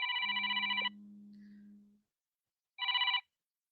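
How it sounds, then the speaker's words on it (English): A phone rings with a bright electronic trill: one burst, a lower sustained tone, then a second short burst after a pause, close and clear with no talk. "my phone's ringing."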